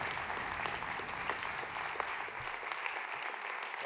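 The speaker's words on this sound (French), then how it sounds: "Je vous demande de bien vouloir applaudir nos intervenants." Steady applause from a lecture-hall audience thanking the speakers after a French scientific talk on ocean turbulence, dense and even throughout, then thinning out near the end.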